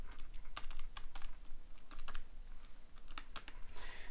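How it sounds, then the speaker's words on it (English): Rapid tapping on a calculator keypad while working a maths exam problem: a steady run of light, close key presses with brief pauses between bursts, no voice. "Type that into my calculator and see what I get."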